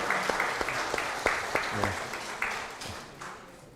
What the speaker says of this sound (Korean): 자, 박수로 우리 이한이를 축복해 주시기 바랍니다